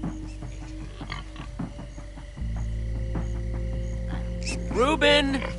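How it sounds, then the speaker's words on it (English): Pigs oinking in the Minecraft Story Mode video game, a few short grunts over a background music bed, followed by a louder burst of squealing near the end. "Hey, all pigs but Reuben, shut up!"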